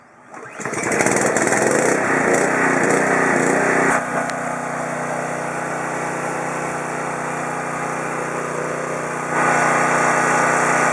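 Subaru EA190V engine running on a Costco 3100 PSI, 2.4 GPM electric-start pressure washer, idling steadily and loud up close after starting, with a dip in pitch midway and a later rise in level.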